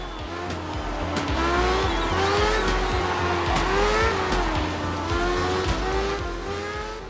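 Rally cars in the racing game Art of Rally rev and roar loudly and close up, with engine pitch rising and falling through gear changes while tires squeal and skid across a continuous run.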